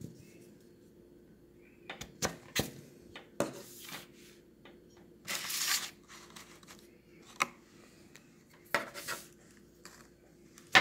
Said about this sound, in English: I'm going to cut up my mango.